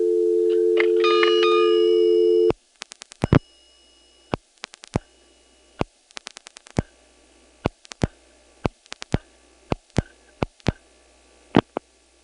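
A 1977 EAX local/toll telephone switch holds a steady tone that cuts off abruptly, then gives a run of sharp, irregular relay clicks as the call cuts through.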